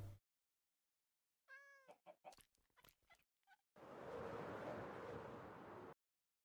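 A cat meows in the Minecraft video game, a rising harmonic mew followed by a few shorter chirps, then a long stretch of steady broadband noise.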